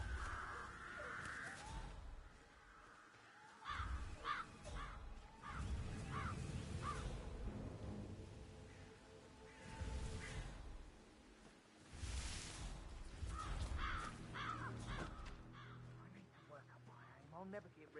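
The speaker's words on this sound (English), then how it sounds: "I'll never get rid of those stupid birds" Crows cawing repeatedly in the game Hitman, several harsh calls spread across the scene and mixed with game ambience and occasional speech.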